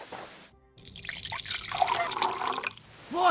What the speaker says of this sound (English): take my water skin. Fill it up in that barrel over there.